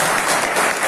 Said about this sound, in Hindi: थैंक यू सर के लिए जोरदार ताली हो जाए सर।